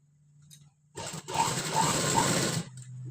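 A sewing machine stitches the back part of a high collar neck: after a faint hum, there is one loud, fast, rattling burst of stitching lasting about a second and a half, then it stops.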